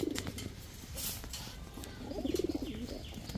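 Pigeons coo at a pigeon market, with two close, throaty rolling coos, one at the start and a longer one near the end, over a busy background hum.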